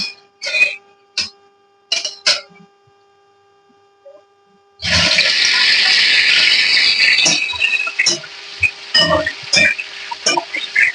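Cauliflower florets dropped into plenty of hot oil in a pan, a loud sudden sizzle bursting in after a few light clinks and continuing as a steady crackling fry with scattered stirring taps.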